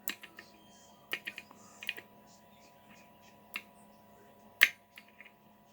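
Pins inside a Zeiss IKON pin tumbler lock with trap pins click sharply as it is picked, faint scattered ticks and a few louder isolated clicks over near-quiet, with a soft voice talking at points.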